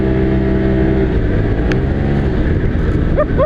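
A 2022 Polaris Pro XP Turbo side-by-side with Live Valve runs loud and close, its engine droning and surging steadily with a deep low rumble.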